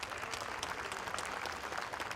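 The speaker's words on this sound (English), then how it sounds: "Can we have a huge round of applause?" An audience gives a round of applause for a crew of hip-hop rappers and b-boys at a safety session, with even, continuous clapping held at a moderate level throughout.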